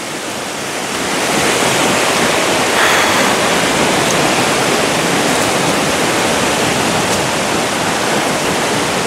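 A waterfall roars in a steady, dense wash of white noise, loud and continuous, swelling slightly after the first second and holding constant with no voices.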